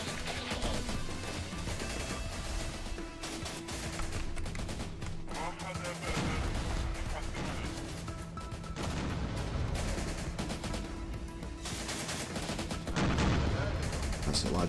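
Dense, continuous gunfire and explosions from combat in the war strategy game Syrian Warfare, set in the fight for Palmyra, with rapid bursts layered over a constant roar.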